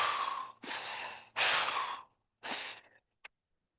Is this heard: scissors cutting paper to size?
no